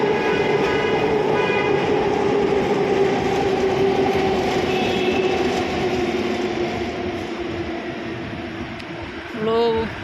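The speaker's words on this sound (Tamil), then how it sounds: "மேலே ட்ரெயின் போயிட்டுருக்கு." A metro train rolls along the elevated track above busy MG Road in Bangalore, a loud continuous rumble with wheel clatter. It fades slightly near the end, and a short horn-like tone sounds at the close.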